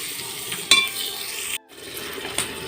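Potatoes frying in a pan with a continuous sizzle, broken by a sharp metallic clink of a utensil and a brief cut-out before the sizzling and stirring resume.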